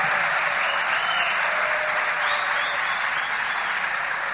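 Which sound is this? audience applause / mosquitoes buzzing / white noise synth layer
audience applause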